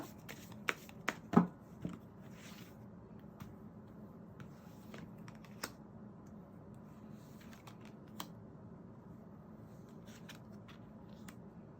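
Tarot cards shuffled and set down during a reading, soft riffling and sharp flicks clustered early, then sparse quiet taps and placements against a faint background.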